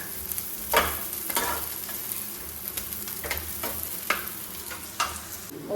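Steady sizzling of spices frying in hot oil as a tempering for dal, with periodic scraping and stirring clatters over a constant crackling hiss.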